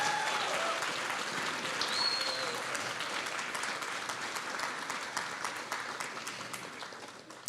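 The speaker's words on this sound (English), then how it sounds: "Let's give those folks a big round of applause" Graduation ceremony audience applauding parents, family and friends, a sustained, even wash of clapping from a large crowd that fades slightly toward the end.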